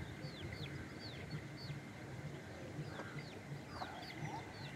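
Hens clucking with their chicks, with short high chirps and a couple of lower clucks scattered over steady outdoor background noise.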